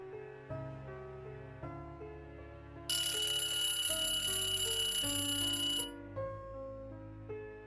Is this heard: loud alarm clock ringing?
yes